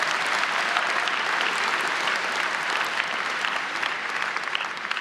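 A law school commencement audience applauds, a loud, dense, continuous wash of clapping from a large crowd that is sustained throughout.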